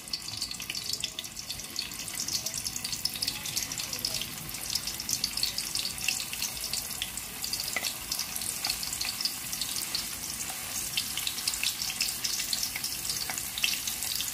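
Pieces of vegetarian chicken fry in hot oil in a pan over a low flame, giving a steady, close, dense sizzle and crackle that holds evenly throughout with no talking.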